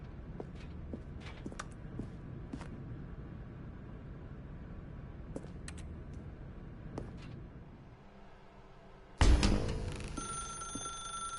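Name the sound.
telephone ringing in a video game (The Stanley Parable)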